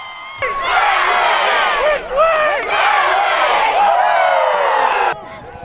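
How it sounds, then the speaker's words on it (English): A high school football crowd erupts in loud, sustained cheering and whooping that starts abruptly, dips briefly midway, then surges again before cutting off. "The Panthers gave the crowd something to cheer about"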